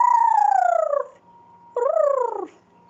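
A voice imitates a high-pitched alien cat creature with two warbling, gliding yowls, the first falling and the second rising then dropping, close and clear with a brief quiet gap.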